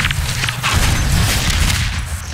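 Booming rocket blast in Half-Life 2 Deathmatch, loud and sustained with a low rumble and crackling mixed-in gunfire through the whole stretch.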